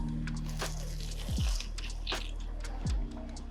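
Someone bites into a fried sesame ball with a crisp, crunchy shell, giving a few soft, close crunches and squishy chewing sounds over a steady low background hum.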